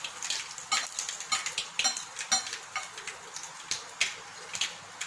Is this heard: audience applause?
no